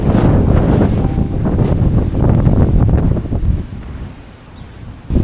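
Strong, gusty wind on a mountain climb roars and buffets the microphone loudly and steadily, easing briefly before a final gust.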